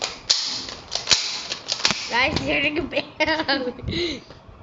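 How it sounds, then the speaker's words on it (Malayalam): Several sharp gunshot cracks from the video game Car Dealership Tycoon ring out in quick bursts at a car, close and loud, followed by a person talking over a few more shots. "കാറിനെ വെടി വെക്കാം നമുക്ക്."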